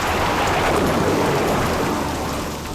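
Rain and a thunderstorm roar as a loud, dense wash of noise with deep low rumbling, heard as a sound effect in a TV serial, steady and then easing slightly at the end.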